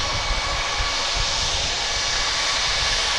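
Passenger airplane at DFW Airport, its jet engines producing a loud, continuous broadband roar that stays steady throughout.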